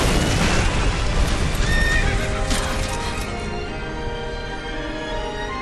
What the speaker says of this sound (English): Sleipnir is the horse from Odin,